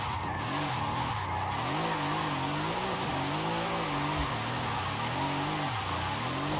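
A Mercedes-AMG SL63 in Forza Horizon 5 holds a steady engine drone that rises and falls with gear changes and throttle, with tire squeal and skidding throughout, loud and continuous with no speech.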